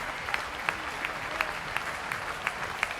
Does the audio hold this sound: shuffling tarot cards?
no